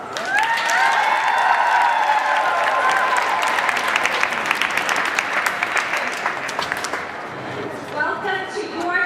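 Rally crowd applauding and cheering at the Minnesota Capitol during a lung health rally, sustained loud clapping with a few shouts at the start, easing slightly toward the end as a voice begins speaking.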